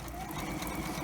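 A sewing machine chain-stitching cloth face masks runs in a steady, fast mechanical whir that is close, continuous and alone for about a second.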